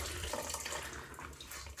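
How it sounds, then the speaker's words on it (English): Water runs and trickles steadily from a child's onesie being wrung out over a bucket of soda-ash solution, a close, continuous splashing stream with no talk. "I'm gonna wring this little guy out."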